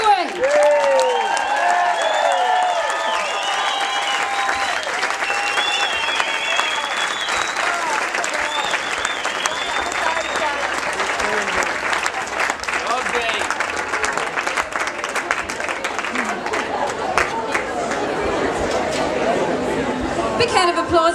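Sustained, dense applause from an audience at the Woodford festival, cheering the CWA ladies after their stand-up comedy set, with crowd chatter and a few voices mixed into the steady clapping throughout.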